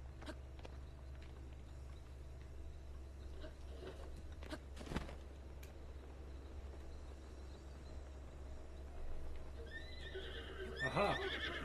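A horse in The Legend of Zelda: Breath of the Wild gives a bright whinny near the end, over a steady low game hum and scattered hoof clip-clops earlier in the stretch.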